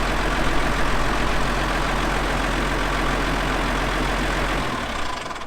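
A Ford farm tractor engine idles loud and steady with a deep, even rumble that fades slightly near the end, no voices over it.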